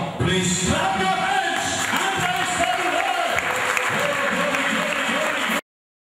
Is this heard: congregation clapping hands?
yes